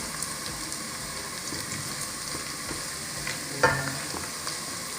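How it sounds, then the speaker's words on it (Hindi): Onions browning lightly in a hot pan for cabbage Manchurian, with a steady frying sizzle and scraping stir strokes throughout and one sharper clink near the end, heard alone at moderate level. "ये प्याज को ना थोड़ा ना ब्राउन कर लिया है"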